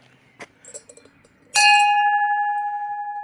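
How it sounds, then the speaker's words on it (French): A metal liberty bell rung once on arrival at Portomarin on the Sarria–Portomarin Camino stage, clanging loudly and ringing out in a long, steady, slowly decaying tone after a few quiet knocks. "vous avez la cloche de la liberté qu'il faut sonner"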